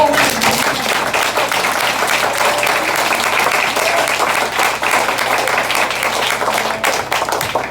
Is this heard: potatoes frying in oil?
no